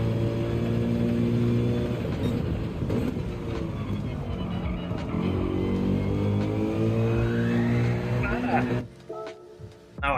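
A Subaru BRZ engine in Gran Turismo 7 revving hard as the car accelerates around Catalunya, with its pitch climbing through the gears and dropping briefly at a shift, loud and continuous before fading near the end.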